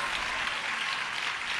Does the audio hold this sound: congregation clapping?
yes